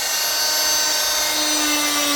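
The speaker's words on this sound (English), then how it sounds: "we're just going to get the multi-tool, cut them off" Oscillating multi-tool cutting off tabs, a continuous loud high buzzing whine, close and steady with no talk.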